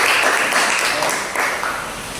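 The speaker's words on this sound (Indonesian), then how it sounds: "Maka tepuk tangan dulu buat kelompoknya." Students in a classroom clap for a group that has just finished presenting, a dense, steady patter of many hands, close and fairly loud, gradually thinning toward the end.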